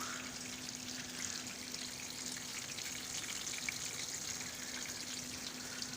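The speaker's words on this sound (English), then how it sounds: "I don't know if you can see the water running through it." Water trickles and splashes steadily through an automated barley fodder system's trays of sprouting seeds, a continuous hiss with a low steady hum underneath, close and moderately loud with no talking.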